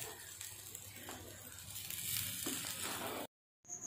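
Boiled black-eyed peas being stirred into a fried tempering with curry leaves in a pan give a steady close sizzling hiss with soft scraping, ending in a brief cut to silence.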